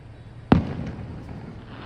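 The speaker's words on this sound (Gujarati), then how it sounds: "કેટલો મસ્ત ફૂટે છે ફટાકડા" A single sharp firecracker bang bursts out on New Year's night, loud and close, then decays into a faint crackling tail and quiet background.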